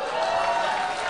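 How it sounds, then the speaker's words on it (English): A church congregation claps for the Lord, a brief burst of dense crowd applause. "Come on, give the Lord a clap"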